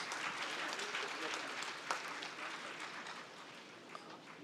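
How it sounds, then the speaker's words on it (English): Steady applause from a crowd at an awards ceremony, a sustained wash of clapping that slowly eases off. "Applause, please."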